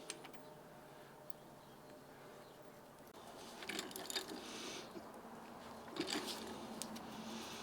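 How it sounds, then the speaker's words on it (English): Metal mechanism clicks and scrapes as a harmonic balancer is pulled off a junkyard Gen 6 454 engine, quiet at first, then a louder stretch of grinding and ratcheting that rises twice with sharper taps and scraping. "I am pulling the harmonic balancer off"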